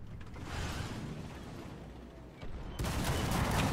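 ZUT-37 autocannon fire in the tank combat game War Thunder, a loud sustained burst of rapid shots over rumbling battle noise, swelling louder toward the end.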